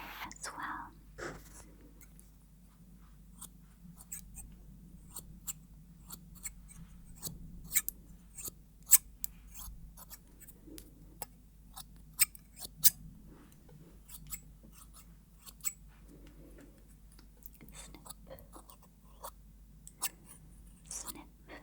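Scissors snipping hair during a close-miked ASMR haircut: crisp, quiet cuts scattered irregularly over a low hum, with soft whispering in places.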